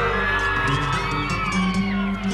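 Nightclub crowd at a live show yells and whoops loudly, with rising cheers and shouts over a steady background hum.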